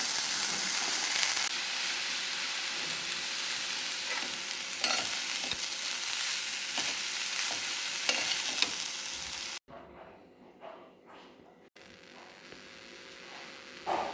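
Sprouted moth beans tipped into hot oil and stirred, giving a loud steady sizzle with spatula scrapes for about ten seconds before the frying drops to a quieter crackle.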